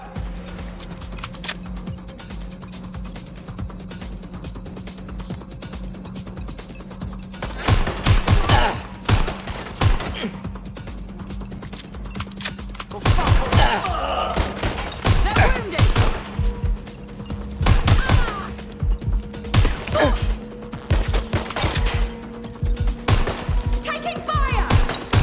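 Gunfire in Watch Dogs: Legion, a game set in London: sharp bursts of rapid shots and scattered single cracks over a low steady hum, growing denser partway through.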